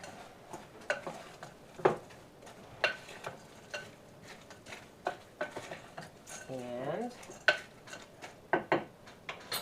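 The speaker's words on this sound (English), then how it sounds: "Put 2 in of Parmesan pieces. And give it a big stir." A spoon stirs a pot with Parmesan pieces added, giving scattered clinks and scrapes against the metal at an uneven rhythm, fairly close and soft, with a short bit of voice in the middle.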